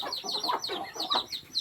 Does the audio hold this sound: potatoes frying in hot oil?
no